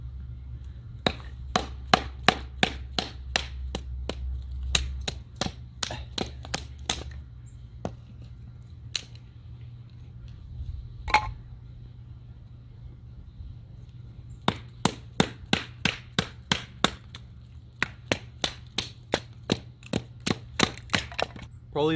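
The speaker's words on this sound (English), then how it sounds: "How about a little batoning?" Fixed-blade EDC knife batoning through wood, heard as sharp close knocks in quick rhythmic runs, separated by quieter stretches.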